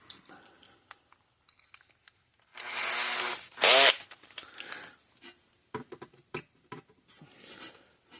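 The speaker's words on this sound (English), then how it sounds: "so we need to drill out one of these rivets" A drill boring out a rivet on a 26-year-old Parmak Mark 6 fence charger, one short loud whirring burst amid scattered light clicks and handling taps.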